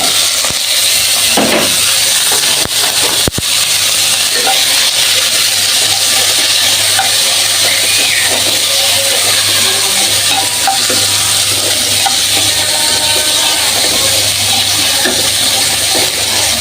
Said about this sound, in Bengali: প্যান বসা দিয়েছি আমি, যে আলু কাটা করে ভাজা নিয়ে বিরিয়ানিতে দেওয়ার জন্য